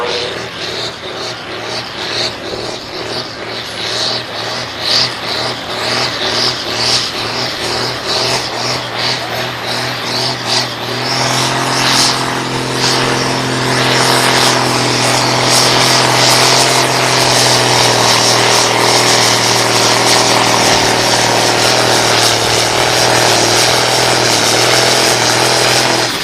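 A muscle tractor at a truck and tractor pull roars loudly and steadily, its engine note climbing and thickening into a dense sustained drone that holds for the whole stretch.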